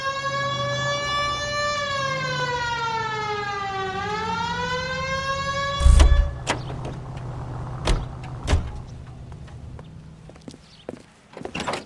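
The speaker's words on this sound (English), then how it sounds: "Hit the siren." A police car siren wails in L.A. Noire, its harmonic tone sweeping steadily up and down for about six seconds before cutting off, followed by engine rumble and several sharp thumps and knocks.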